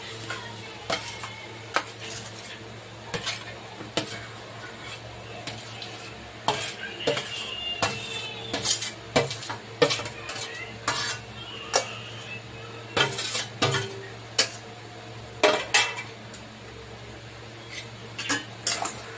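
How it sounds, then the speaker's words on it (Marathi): Mashed potatoes get stirred into a spiced mixture in a pan. A spoon scrapes and clacks against the metal in quick, irregular bursts over a low, steady sizzle, and the strokes grow busier toward the end. "आणि व्यवस्थित मिक्स करून घेऊया."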